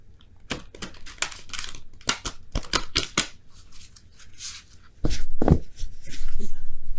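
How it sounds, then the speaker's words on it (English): Large tarot oracle cards being shuffled by hand, with bursts of crisp riffling and flicking, then a denser, louder shuffle toward the end, close and without talking. "one more shuffle that way"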